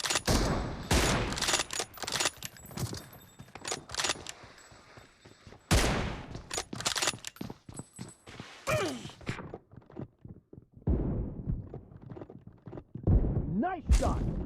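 Bursts of gunfire in the battle royale game PUBG BGMI crack repeatedly in uneven clusters, sharp and close, with faint game voice callouts between shots.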